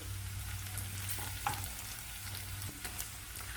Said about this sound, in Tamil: சோம்பு அடித்ததும் வெங்காயம் சேர்த்துக்கலாம்